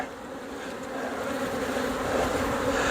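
Honey bees in a horizontal hive drone in a dense, steady buzz during an inspection, close and continuous, swelling slightly louder toward the end with no voices.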